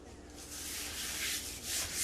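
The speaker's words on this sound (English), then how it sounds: "I'm going to take the rolling pin and I'm going to" A rolling pin rolls out and flattens biscuit dough to about half an inch, giving a soft, continuous rubbing and sanding texture that swells and fades in close, steady strokes with no talking.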